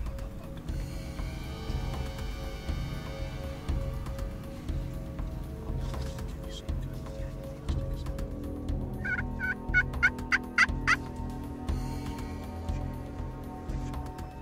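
A wild tom turkey gobbles during a spring hunt as he struts toward redhead hen decoys, with repeated rapid rattling gobbles standing out near the middle over steady outdoor background noise.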